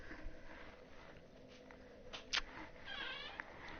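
A cat meows faintly a few times amid quiet room noise, with soft shifting and a short high squeak between the calls.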